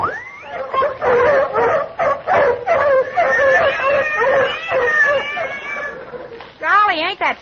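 Voices imitate cats and dogs as falling rain in a 1945 radio comedy, a rapid jumble of mews, yowls and barks layered loudly together, ending in a rising wavering meow.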